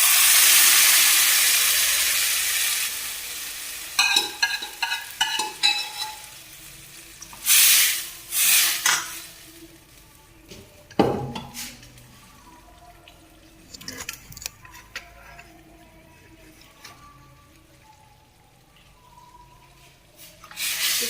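Dal poured into a pot of hot tadka tempering, with a loud sizzling hiss at first, then a burst of spitting and bubbling, then the sound settling into softer simmering crackles and occasional pops.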